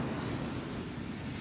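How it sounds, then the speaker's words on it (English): Ocean waves play from a sound machine as a soft, steady wash of surf noise, faint and continuous with no talk. "Notice how I have the sounds of the waves playing on a sound machine."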